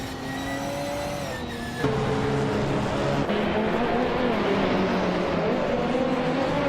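KTM Crossbow GT4 and rival race cars in a racing video game, droning engine tones that drop sharply at a gear shift and then hold a loud, steady roar.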